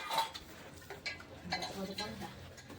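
Soft, quiet clinking and scraping of pots and utensils as dishes are scrubbed, in scattered bursts with faint background murmuring.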